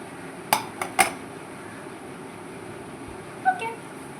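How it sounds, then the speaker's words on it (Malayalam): Metal vessel set over a bowl, a few sharp clinks and taps of metal on metal close by, followed by a softer knock after a quiet pause. "അപ്പം ഈ പാത്രം വെച്ച് മൂടാം."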